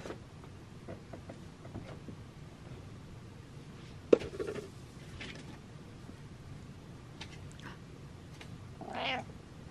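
Soft scattered clicks and bumps, then a faint, brief meow from a cat toward the end, somewhat distant in a quiet room.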